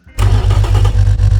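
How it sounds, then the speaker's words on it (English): A modified Nissan L28 inline-six in the Automation car game starts after a brief crank, then settles into a loud, steady idle with a lumpy, pulsing rhythm, close and alone with no talking. "Now let's fire up after all these modifications and see how it will sound."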